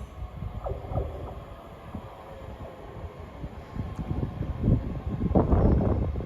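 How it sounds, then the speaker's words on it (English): A ScotRail train on the Edinburgh Waverley to Glasgow Central service rolls into Haymarket station with a low rumble and rattling wheel clatter, growing louder toward the end amid light wind noise. "Arriving in now is the 1531 ScotRail service from Edinburgh Waverley to Glasgow Central."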